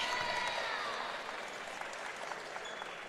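A home crowd at a college basketball game cheers and claps after a play, a faint, distant wash of applause with scattered whistles that fades slightly.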